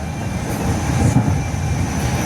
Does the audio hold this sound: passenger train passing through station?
yes